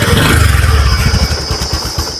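A motorcycle engine runs close by with a low, rapid chugging pulse and a thin high whine over it.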